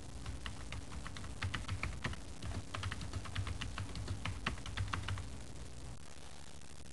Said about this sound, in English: We type our text.